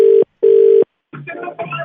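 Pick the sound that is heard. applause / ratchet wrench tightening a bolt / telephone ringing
telephone ringing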